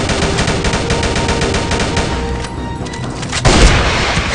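Rapid gunshots in the shooter game Rival Fire, a loud continuous stream of repeated shots, with a heavier blast near the end.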